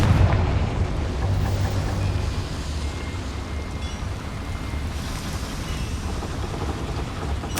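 A Confringo fire-blast spell explodes in Hogwarts Legacy, a loud, sustained rumbling boom with heavy low roar that opens strongly and keeps churning steadily through the whole stretch, with no talk.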